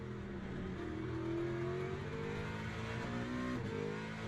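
Race car engine in the sim game Le Mans Ultimate strains under load, a steady droning whine with slowly rising pitch, moderately loud and continuous with no talking.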